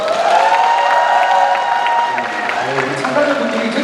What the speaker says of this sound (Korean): 더 크게 우리 박수 한번 부탁드려볼까요